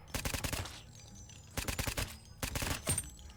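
Gunfire from the zombie video game Deathly Stillness comes in three quick rapid-fire bursts separated by short pauses, fairly quiet overall.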